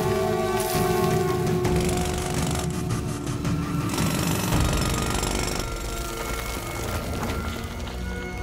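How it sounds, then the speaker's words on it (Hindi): A power drill bores into a hidden chamber in a film scene, a loud, continuous, harsh grinding and hammering roar with a slight rise and dip in intensity, close and unbroken throughout. "सर अंदर कोई चैम्बर लगता है, उसको ड्रिल करके खोल दो।"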